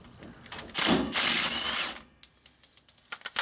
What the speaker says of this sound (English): we'll just zap it off with the impact.